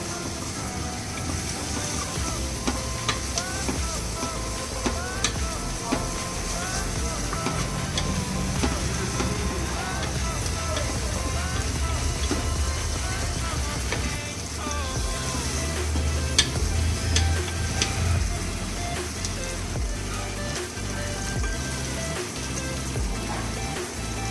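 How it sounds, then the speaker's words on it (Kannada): Onions frying in oil for tomato bath, a steady hiss of sizzling that runs throughout with faint clinks and scraping now and then. "ಈರುಳ್ಳಿ ಸ್ವಲ್ಪ ಚೆನ್ನಾಗಿ ಎಣ್ಣೆಯಲ್ಲಿ ಫ್ರೈ ಆಗಲಿ"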